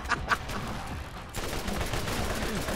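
Quiet bursts of video game gunfire from Borderlands, a couple of sharp shots followed by a denser rattle of rapid fire, all faint in the background.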